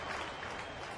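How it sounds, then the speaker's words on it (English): A baseball crowd in Pittsburgh applauds Freddie Sanchez's return after a rain delay, a steady, dense wash of clapping from a thinned-out stadium audience, far-off and unbroken. "Sanchez got a polite applause last night and a good applause tonight as well"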